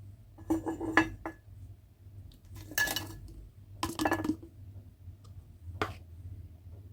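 Pineapple peels poured into a clean glass jar give scattered clinks and knocks in several short bursts, with quiet pauses between them.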